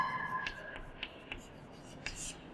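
A teacher writes the word Delhi during a Hindi grammar lesson for classes 6 to 8, producing a few short, faint scratchy strokes spaced across a quiet room.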